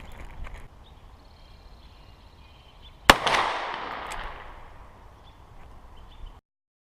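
A single sharp gunshot from a .327 Federal Magnum handgun cracks out loud and close, followed by a long decaying echo tail, with quiet handling noise before and after.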